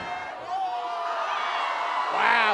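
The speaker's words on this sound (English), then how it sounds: "listen to the crowd going nuts" Excited crowd cheering and whooping at a Juggalo Championship Wrestling show, rising to a louder swell near the end, with voices over it.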